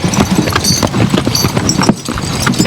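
Suffolk Punch draft horses hitched up and working around a field, hooves clip-clopping in a steady rhythm, close and loud over outdoor background noise.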